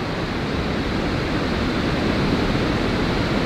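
Steady rushing water runs beside a golf course, a dense continuous broadband wash like a stream or fountain, loud and close with no breaks, no voices over it.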